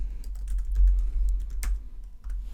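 Keystrokes on a computer keyboard during Photoshop work, a quick run of light clicks at close range over a low steady hum, with no talking.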